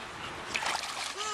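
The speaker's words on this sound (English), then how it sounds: "Are you splashing around?" An animal splashes around in a backyard pool, with a few brief, close splashes and water sloshing against a quiet outdoor background.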